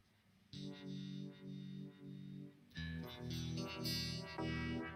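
An electric guitar runs through a multi-effects unit with distortion and reverb in a funky live setting, ringing chords strummed in bursts that grow louder and busier partway through, with no talking.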